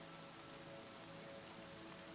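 Rain falls steadily in Horizon Zero Dawn, a faint, even hiss of drops on surfaces with a low hum beneath, continuous and without other sounds.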